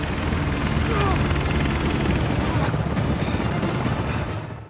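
Helicopter rotor noise fills the scene as a dense, steady roar, joined by a few brief sharp cracks from gunfire, under a movie chase where a helicopter flies off carrying two captives and a pursuer tries to catch it.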